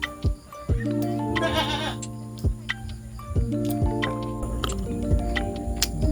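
Goats on a goat farm bleat repeatedly in the early morning, several loud, wavering calls overlapping one another at close range, with brief ticking sounds in between.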